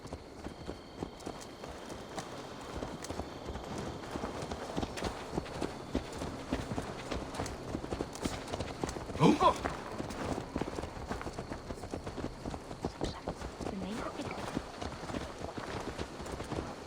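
Horse hooves clip-clop steadily in the video game Assassin's Creed Valhalla, a continuous brisk rhythm of hoofbeats over a busy ambient game soundscape, with no speech.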